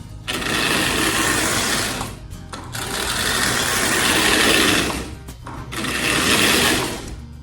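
A postwar toy train locomotive motor, unlubricated, whirs loudly and steadily in three long bursts, each separated by a brief pause, with a dry, buzzing mechanical rattle.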